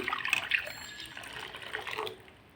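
Reserved lentil cooking water being poured back into a cooking pot for sour dal, heard as a close, continuous splashing trickle that gradually tapers off.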